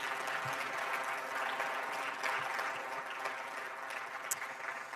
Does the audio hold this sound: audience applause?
yes